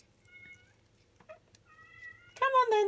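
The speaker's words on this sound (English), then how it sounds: "It's my cat's making a funny noise." A pet cat lets out a few short, faint meows in a quiet room, then a loud, drawn-out funny meow that slides downward, close to the microphone at the end.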